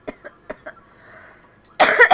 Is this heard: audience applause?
no